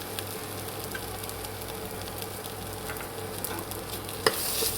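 Grated papaya stirred in a pan as its water cooks off, a low continuous sizzle with faint scraping strokes and one sharp utensil knock near the end, no voices.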